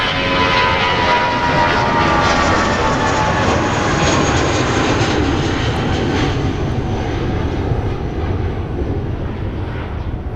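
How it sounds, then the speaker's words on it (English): A United airliner departs runway 30 left at Minneapolis–Saint Paul airport, with loud, steady jet engine roar sustained throughout and slowly easing toward the end. "All right, so we got United that's departing 30 left."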